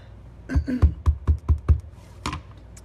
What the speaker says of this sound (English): So let's ink this up really well.